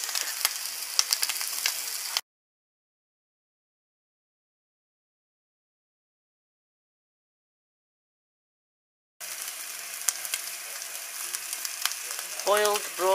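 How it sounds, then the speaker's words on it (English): Bacon bits frying in a pan, close crackling and sizzle heard in two stretches separated by several seconds of silence, with a brief voice near the end. "fried bacon bits."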